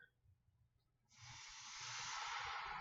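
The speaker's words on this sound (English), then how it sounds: "So it sizzles a little bit." Water poured into a hot pan of oil and cornmeal for Turkish kuymak cheese dish sizzles, starting abruptly after a quiet moment and building into a loud, steady hiss that continues without talk.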